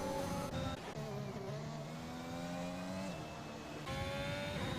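F1 2021 race car engines whine at high revs in a video-game race, with pitch climbing and dropping through gear changes and a brief shift in tone; a steady, fairly faint mix with no voices.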